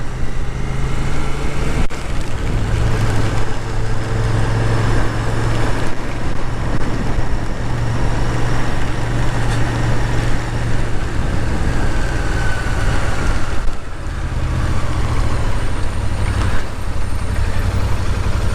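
A Royal Enfield Shotgun 650 motorcycle engine runs steadily while riding, a loud continuous low drone with wind rush that dips briefly near the end before resuming.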